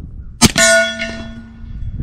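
A bullet from a suppressed ZEV OZ9c pistol strikes dirt: one sharp impact, then a ringing metallic tone that lingers and fades over about a second and a half, with no voices.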